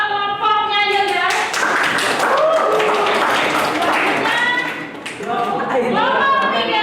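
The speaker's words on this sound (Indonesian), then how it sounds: "tepuk tangan untuk kelompoknya Yelda." Steady clapping from a classroom of people for a group presentation, mixed with children's voices calling and chattering over it.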